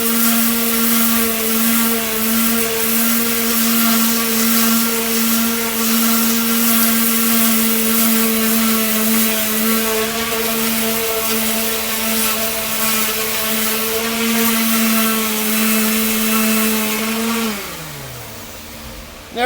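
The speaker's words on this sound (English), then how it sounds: "That's how you de-rust and sand 1926 Lehigh Valley tie plates." A power sander hums at a steady high pitch while stripping rust from a 1926 Lehigh Valley railroad tie plate, loud and constant for most of the stretch before the motor spins down near the end.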